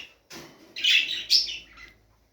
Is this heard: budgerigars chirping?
yes